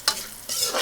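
Onion hitting hot oil in a pan for Filipino chicken curry, with a sharp hiss on entry and then a steady, close, loud sizzle with no talking.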